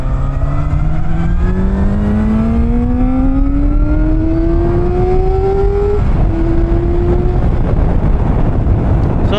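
A Kove 450R naked motorcycle with an inline four-cylinder engine pulls away, its engine note rising smoothly through one long gear, dipping briefly at a shift and climbing again, loud and close over rushing wind noise.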